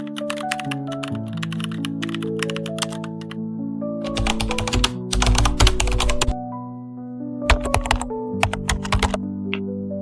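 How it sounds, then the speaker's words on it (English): Rapid keyboard typing in bursts of clicking keys, close and crisp, with short pauses between flurries and a low tonal hum underneath. "Typing, and you will see different sound effects on typing."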